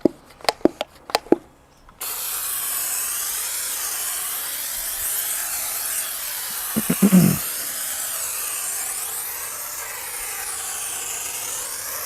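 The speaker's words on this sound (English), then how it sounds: "This is just all-purpose cleaner." Spray bottle of all-purpose cleaner used while detailing a BMW E90 320d: a few short spritzes at the start, then a long steady hiss, with a brief rubbing burst near the end.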